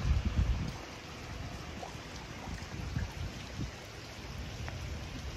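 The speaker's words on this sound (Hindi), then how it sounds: "अभी बारिश बहुत कम हो गई है वरना बहुत तेज़ बारिश हो रही थी।" Steady rain falling outdoors in Fujairah, a dense close hiss of drops on surfaces with a few heavier patters near the start, continuous and without voices.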